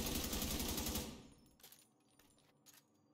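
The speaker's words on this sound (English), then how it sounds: "But this is the assault rifle. It's the P416 G3." Automatic fire from a P416 G3 assault rifle in The Division 2, a dense rapid burst for about a second that cuts off, followed by a few faint scattered clicks and impacts.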